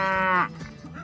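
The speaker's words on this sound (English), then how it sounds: "The cow says... What does the cow say?" A cow lets out a single long, loud moo with a rising harmonic tone that fades after about half a second, followed by quieter lowing.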